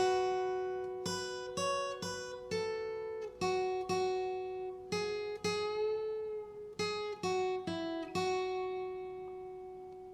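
A lone guitar plays a slow melody line, single plucked notes ringing out with a few bent, gliding pitches and short pauses between phrases.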